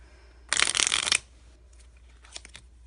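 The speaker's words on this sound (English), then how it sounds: "You're gonna shuffle it a few times, just making sure that this stays on top, your card." A deck of playing cards is shuffled in one quick, loud riffle of about half a second, followed by a few faint, soft card taps and slides.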